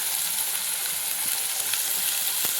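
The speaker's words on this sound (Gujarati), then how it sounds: "ગરમા ગરમ ઘીમાં લીલું લસણ" Green garlic sizzles steadily in hot ghee, a continuous close frying hiss with faint crackles and no voices.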